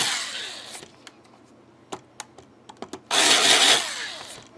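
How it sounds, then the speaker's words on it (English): A few sharp clicks and taps, then a short loud whirring burst of a drill boring holes into a guitar, close by. "Yep, just drill them like that."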